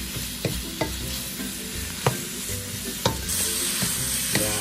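Ground pork and onion cooking in a pan, with a steady sizzle and the occasional sharp scrape or knock of a utensil stirring close by, with no voices.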